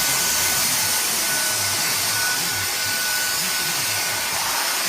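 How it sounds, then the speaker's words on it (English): A vacuum cleaner runs steadily and loudly throughout, a constant broadband whoosh with a faint whine, as it is used on a cat to pull off loose hair. "My mom is going to vacuum it."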